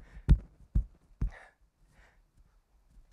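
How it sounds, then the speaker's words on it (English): Three heavy low thumps in quick succession, like a heartbeat sound effect in a school drama performance, then soft breathy sounds and quiet stage ambience. "My heart beating in my chest."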